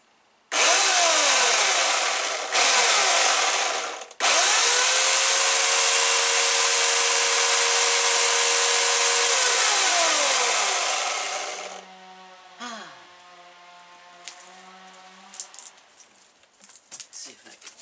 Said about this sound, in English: Here's what this electric chainsaw sounds like.